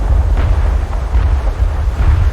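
Naval guns fire in a War Thunder sea battle involving a German Leopard destroyer, heavy booming blasts rolling one after another over a dense, continuous low rumble, loud and close.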